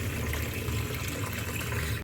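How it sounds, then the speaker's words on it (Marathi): Potatoes being washed under a running kitchen tap, a steady rushing stream of water close by that continues without a break, with no talk. "बटाटे आता आपण धुवून घेऊ"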